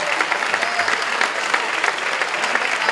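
Applause from the audience fills an assembly hall at a youth political meeting, a dense, steady clapping from a large crowd that holds at full strength throughout with no talk over it.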